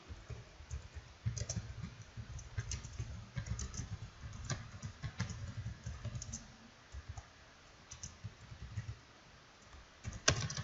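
Code being typed on a computer keyboard, soft irregular bursts of key clicks with brief pauses, close and fairly quiet, no voices.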